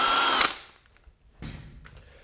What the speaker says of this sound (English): It's going to take our drill, come up at an angle,